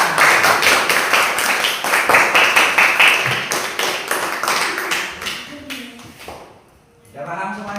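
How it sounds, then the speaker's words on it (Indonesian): A class of students claps together in quick rhythmic applause for several seconds, fading out near the end as a teacher begins speaking. "Tepuk tangan semuanya"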